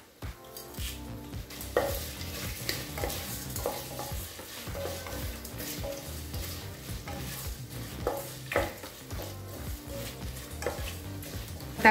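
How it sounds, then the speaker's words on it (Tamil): Tomatoes sauté in a pot for seeraga samba mutton biryani, sizzling steadily while a utensil stirs and scrapes against the metal in repeated strokes, close and continuous, with no talking. "தக்காளி நல்லா வதங்கிடுச்சுங்க."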